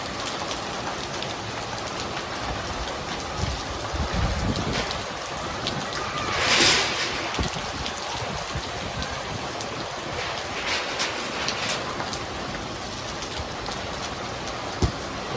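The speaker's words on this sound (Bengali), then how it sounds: "দেখতে পাচ্ছেন বৃষ্টি একভাবে পড়ছে" Steady rain falls in an even, continuous hiss of drops striking a surface nearby, with no voices.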